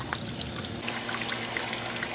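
Water pours and trickles steadily into a small DIY mini pond setup, a soft, close splashing with scattered droplet patters over a constant low hum from the pump.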